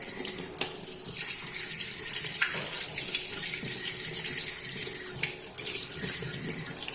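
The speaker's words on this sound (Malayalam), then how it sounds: "ഇനി നമുക്ക് പൈപ്പിൻ്റെ വെള്ളത്തിലിട്ടൊന്ന് കഴുകിയെടുക്കാം." Tap water runs steadily into a sink, a constant splashing rush with small shifts as gold and silver jewellery is rinsed under the stream. No voices.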